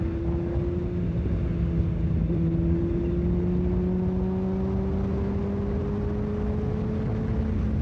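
A 2015 Kawasaki Ninja ZX-6R 636 sports bike is ridden, its engine holding a steady, loud drone whose pitch climbs slowly as it gathers speed, wrapped in constant wind rush.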